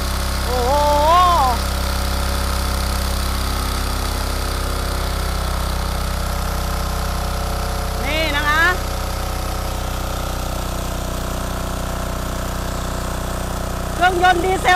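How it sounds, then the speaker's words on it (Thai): A small 14-horsepower diesel engine driving a water pump chugs steadily at idle throughout, loud and near, with a few brief voices rising over it. "เครื่องยนต์ดีเซลตัวเล็กนะคะ14แรงม้า"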